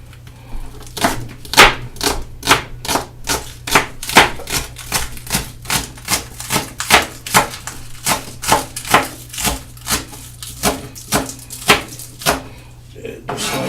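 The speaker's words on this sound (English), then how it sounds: "So you want to chop your scallions up." A knife chopping scallions on a cutting board, a quick regular run of crisp close taps repeated for over ten seconds, with a low steady hum underneath.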